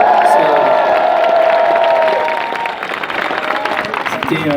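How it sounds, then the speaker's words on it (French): A concert crowd at a show bursts into loud applause and cheering with whoops, close and dense, under a sustained musical tone before the clapping thins out toward the end. "je propose qu'on l'applaudisse encore une fois"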